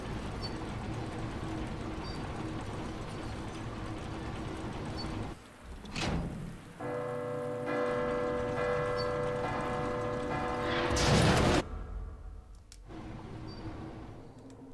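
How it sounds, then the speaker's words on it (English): A heavy bell in the Resident Evil 2 remake on PC rings out with one sharp strike, then a long sustained hum; a second loud clang follows and cuts to near silence. "Makes the bell ring."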